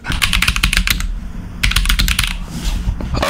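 Fast typing on a computer keyboard, close and crisp, in two bursts of rapid clicky keystrokes separated by a short pause, with a few scattered taps at the end and no talking.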